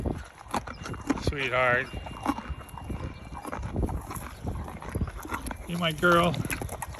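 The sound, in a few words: horses moving and hooves clopping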